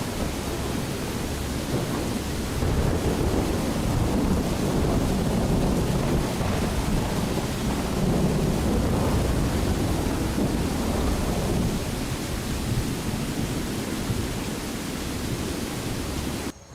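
Thunder in the video game Skyrim, a steady low, broad rumble like a thunderstorm with rain, rolling continuously for over fifteen seconds without speech.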